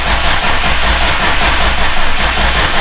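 A Subaru STI engine runs after fuel priming, a loud, steady low rumble with an uneven idling pulse, heard close up with no talking.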